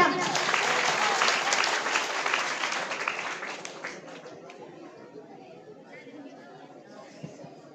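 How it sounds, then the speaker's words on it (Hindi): A crowd applauds students at a school Independence Day ceremony, dense clapping loud at first that fades away after about four seconds, leaving low chatter and murmuring behind. "भाई इन छात्र छात्राओं के लिए तालियां।"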